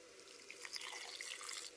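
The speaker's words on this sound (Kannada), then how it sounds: "ಸ್ವಲ್ಪ ನೀರು ಹಾಕ್ಕೊಳ್ತೇನೆ." A soft, faint trickle of water pouring steadily into a mixer jar holding coconut, garlic and cumin for a couple of seconds.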